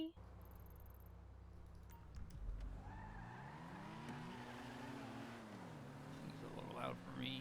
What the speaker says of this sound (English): I'm in the loud car.